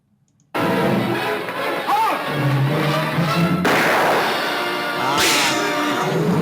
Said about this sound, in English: They make the gunshot part of the music.